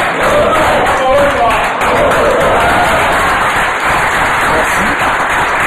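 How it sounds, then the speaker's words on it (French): A crowd claps loudly and continuously in tribute to Papa Wemba, the dense applause mixed with a few voices from the audience. "Si on peut applaudir Papa Wemba."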